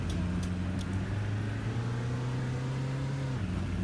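A bus engine in a driving game hums steadily at a low, even pitch, shifting down slightly near the end, with faint clicks and clatter above it; no voices.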